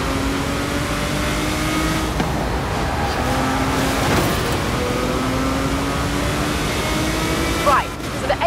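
A car engine in the racing game Forza Horizon 5 drones steadily and loudly throughout, with shifting engine tones and a sharp rise near the end.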